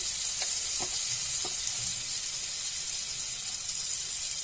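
Kashmiri red chili sizzling in hot butter for paneer butter masala, a steady close frying hiss that runs unbroken throughout, with a few faint clicks early on.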